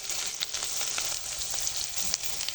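Ground masala paste of ginger, garlic, cumin, onion, dried chilli and turmeric frying in oil in a pan for a tilapia fish bhuna, a continuous close sizzle with intermittent spoon scrapes and taps.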